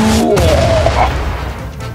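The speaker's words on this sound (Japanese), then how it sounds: "水蒸気爆発" Steam explosion attack from the Super Mario RPG video game: a loud, sustained burst of broadband blast noise with a falling synthesized tone, filling the whole moment with no talk.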